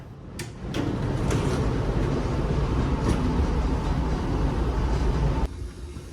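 Steady rumbling and rattling of a moving train carriage from inside, with a few sharp clicks and knocks, ending in a sudden drop in noise.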